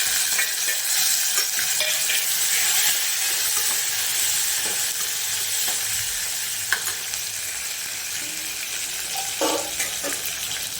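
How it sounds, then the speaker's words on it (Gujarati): Whole cumin, green chilies, capsicum and tomatoes sizzle in hot oil for a Kathiyavadi farali dish, a steady, close, loud hiss broken by a few light stirring clicks, with no talking. "તેલ ગરમ થઈ ગયું છે તો આપણે આખું જીરું નાખીશું લીલા મરચાં અને કેપ્સિકમ પણ નાખીશું ટામેટા નાખીશું"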